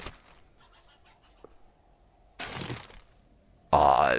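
Chicken clucking in the 7 Days to Die survival video game, a few faint quick clucks early on, followed by a louder crashing burst and an abrupt loud shattering sound near the end.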